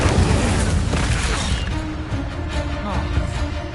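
Incendio fire spell cast in the Hogwarts Legacy video game, a loud booming burst that fades into a crackling tail with faint game tones, with a brief spoken incantation.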